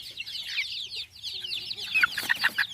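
Young chickens, around two to three months old, held in a cage under a woven basket without a heat lamp, give a steady stream of high peeps and chirps, with sharper, louder calls bunching up toward the end.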